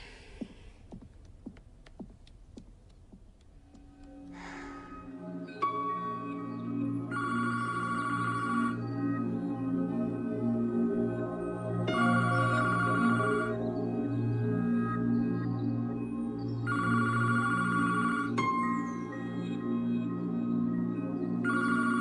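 A telephone rings in repeated bursts, each ring lasting about a second and a half with short pauses between. The rings sit over a steady low musical hum, and no one speaks.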